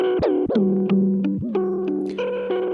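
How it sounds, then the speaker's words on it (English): Synth-like tones mangled by a Chase Bliss Lost + Found pedal set to broken tape with every control turned fully up: warbling notes bend and dip in pitch with abrupt glitches and swoops, loud and close, no talk. "it's a very broken sounding tape, especially if we were to turn everything all the way up"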